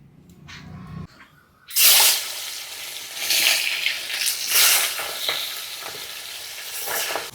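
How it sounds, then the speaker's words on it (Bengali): Mustard oil in a hot wok bursts into a loud, sudden sizzle after a few quiet, clattering seconds, then crackles steadily and densely to the end, close and without talk. "কড়াই গরম দিয়ে দিচ্ছি সর্ষের তেল"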